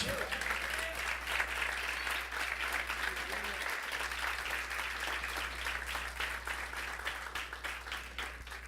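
A congregation applauds during a church service, steady dense clapping filling the space for several seconds with faint voices underneath.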